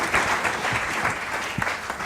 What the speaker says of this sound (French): vos applaudissements à nos invités, à nos interprètes